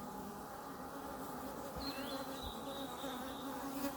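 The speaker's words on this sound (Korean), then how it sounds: "벌이 이제 보이죠 여기 여기" Bees buzz around a wild honey nest hidden inside a hollow tree trunk, a dense continuous drone from many insects close by, with single bees passing nearer now and then.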